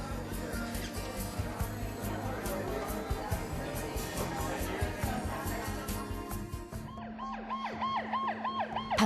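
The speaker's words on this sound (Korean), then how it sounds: "밤공기를 가르며 달려오는 구급차" An ambulance siren wails as it races through the night air, rising and falling over a rumbling background that fades to leave the siren clearer near the end.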